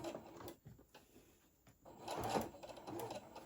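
A sewing machine making a tooth fairy pillow runs with its needle-down feature on, giving a short, near mechanical whir with light stitching clicks that swells in the second half and is heard alone.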